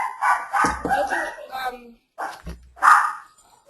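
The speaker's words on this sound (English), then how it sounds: "Sorry, my dog." A dog barks a few times nearby, with short sharp bursts separated by brief pauses and no speech over them.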